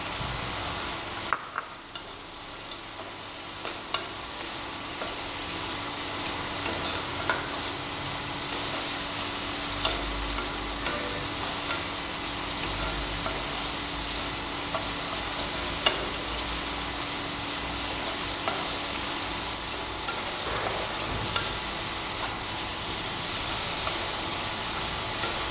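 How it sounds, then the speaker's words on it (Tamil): Crab legs sauté in a pan for a Tamil crab soup, giving off a steady, close hiss and sizzle with occasional stirring scrapes. No one talks. "நல்லா வதங்கியதும் நண்டுக்கால் சேர்த்து நல்லா வதக்குங்க."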